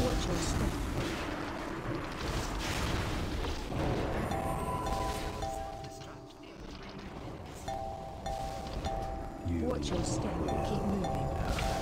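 Barrage attack during a World of Warcraft Ulduar hard-mode raid boss fight: dense, continuous booming and crackling game effects with bright tonal chimes, loud throughout and layered under voice chat.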